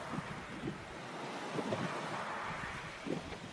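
Ocean waves wash steadily with soft surf and wind noise, a continuous faint roar with gentle swells and no voices.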